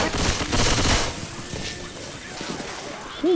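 Gunfire and crashing blasts in the video game Left 4 Dead 2 crackle in a dense burst for the first second, then fade into softer game noise and scattered effects.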